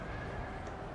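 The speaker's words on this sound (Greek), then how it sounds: "Τα άλλα τα άλογα." Horses whinnying amid a battle in the video game Napoleon: Total War, a short burst of equine neighing over a dense, steady rumble of combat noise.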